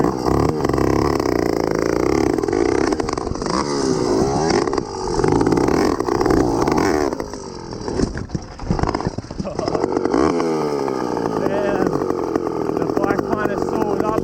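A motorised bicycle's small engine revs hard and continuously while the rider tackles dirt jumps, the loud buzzing pitch rising and falling with throttle, briefly dipping midway before climbing again.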